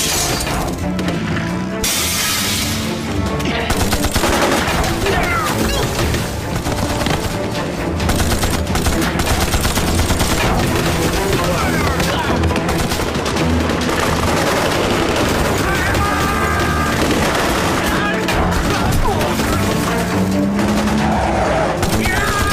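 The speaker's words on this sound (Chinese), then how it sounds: "拦住那辆车，开枪打死他" Loud, relentless gunfire rakes a car in a dramatic action scene, with dense bursts of shots, shattering glass and skidding tyres packed together without pause.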